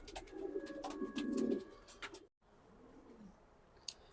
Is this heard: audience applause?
no